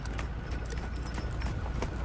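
A horse's hooves clip-clop in a steady rhythmic series of soft, fairly faint knocks over a noisy outdoor background.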